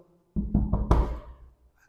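Several knocks on a fiberglass door of a low-cost two-bedroom house, four firm raps in quick succession with a louder final one, close and clear with no talk.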